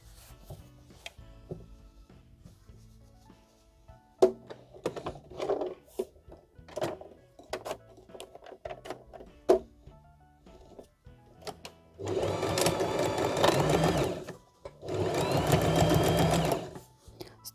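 A sewing machine stitches a fabric ear onto a unicorn pillow toy, with scattered handling taps and fabric rustle first, then two loud sustained runs of close machine stitching, each about two seconds long.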